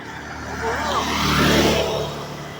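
A truck drives past, its engine rumble swelling as it approaches, peaking mid-pass and fading away, loud and close.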